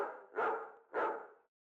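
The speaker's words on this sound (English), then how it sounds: "drives a truck full of packages down in an endless American neighborhood as a pack of rabid dogs chase behind" A pack of aggressive dogs barks while chasing a mail truck through a suburban American neighborhood, two loud, harsh barks about half a second apart, each trailing off, heard alone without voices.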